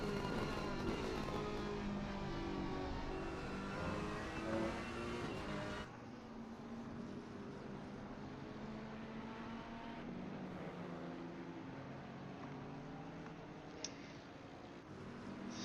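GT3 race car engine in the Assetto Corsa Competizione sim racing game at the Nürburgring, a steady droning roar with shifting pitch as the throttle is feathered, continuous and fairly distant-sounding throughout.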